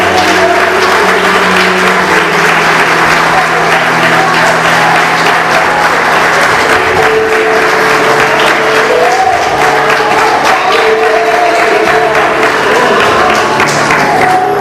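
A church congregation applauds loudly and continuously for about fifteen seconds, a dense wash of clapping with a few voices and a sustained musical tone underneath.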